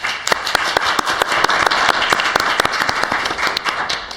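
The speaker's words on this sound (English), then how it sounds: "So please give them all a round of applause" An audience applauds at a formal gathering with loud, dense clapping, many sharp individual claps over a continuous roar of hands throughout, with no voices over it.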